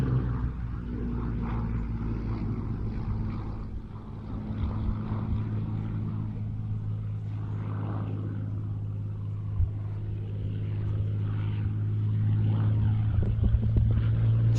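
A Sydney Camm-designed WWII fighter plane flies at an airshow, its propeller engine producing a steady, moderately distant drone that swells slightly near the end, with background crowd noise.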